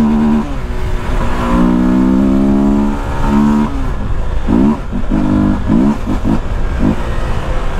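A Honda CB Twister 300F motorcycle engine revs close up, rising in a long pull, then dropping into a series of short sharp throttle blips, loud and alone.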